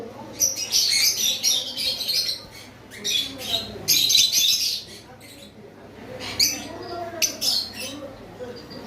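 Several small double red factor parrots chirp and squawk in busy, high-pitched bursts nearby, pausing briefly before another flurry of chatter.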